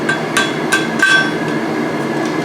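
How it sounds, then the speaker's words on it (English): Hammer striking hot steel while forging blacksmith tongs, four sharp ringing blows at a steady, fairly brisk pace, then fainter taps trailing off, close and clear with no talk. "If you only hammer through one side with a taper"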